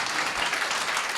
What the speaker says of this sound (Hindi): एक अच्छी ताली बजा के प्रभु को धन्यवाद दो